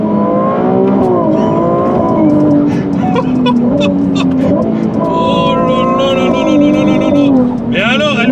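Ferrari 296 GTB with 830 hp accelerating hard, its engine loud and close inside the cabin, pitch climbing in steps through rapid gear shifts and a sustained aggressive roar throughout.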